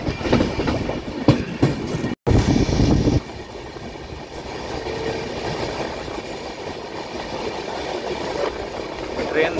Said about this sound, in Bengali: ট্রেন দারুণ স্পিডে যাচ্ছে